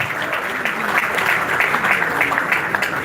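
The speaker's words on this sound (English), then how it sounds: "can you give a round of applause to the very Breeze?" Audience applause at a trading expo following a speaker's introduction, dense steady clapping from a sizeable crowd lasting the whole stretch.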